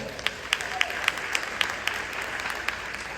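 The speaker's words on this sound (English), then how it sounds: "Give that a round of applause." An audience applauds at the 2023 State of the City address in East Orange, with steady clapping and sharp individual claps standing out.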